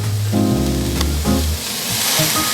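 Broccoli hisses loudly in a hot home pan, a short close sizzle with a tonal whine at the start and a brief scraping stir before the hiss settles.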